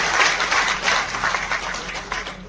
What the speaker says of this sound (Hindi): जोरदार ताली बजा के साथी का स्वागत करिए।